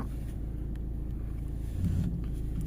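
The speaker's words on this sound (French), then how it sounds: "Regarde derrière, tu vois, il y a un véhicule qui arrive" A vehicle approaching from behind in a parking situation, heard as a low steady engine rumble that holds fairly constant and swells slightly near the end, with no talk.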